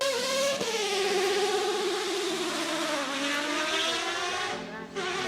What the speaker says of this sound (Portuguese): O Mazda 787B, ele era uma mistura entre um carro de corrida e um som de um avião de guerra de japonês